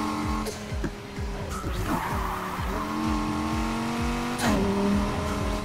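McLaren sports car in the racing video game Need for Speed Heat, engine revving loud and close with repeated rising sweeps broken by quick gear shifts, plus brief tire squeals and a sharp burst near the end.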